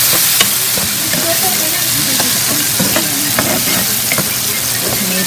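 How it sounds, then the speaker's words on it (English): Chopped tomatoes sizzle in a pan with sautéed onions and red and green bell peppers, a dense continuous frying hiss with scattered pops and stirring scrapes, close and steady throughout. "You want to hear the sizzle."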